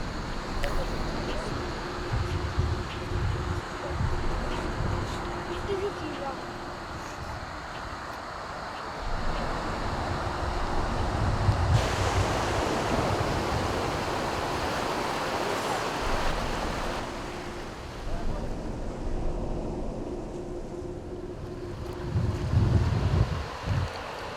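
Ocean surf and gusty wind roll steadily at Takwa Bay beach in Nigeria, with wind buffeting the microphone and waves washing in continuously.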